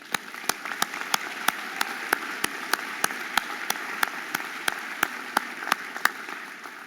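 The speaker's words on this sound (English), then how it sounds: "Let's give them a round of applause." Sparse, evenly spaced claps ring out in a chapel at a medical school commencement, honoring faculty and staff award recipients; a few hands clap slowly over a faint background hiss.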